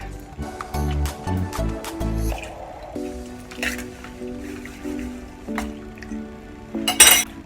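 Milk is poured onto chicken wings seasoned with salt and chili powder. Soft, wet squishing and dripping sound up close over a faint steady hum, with no talking.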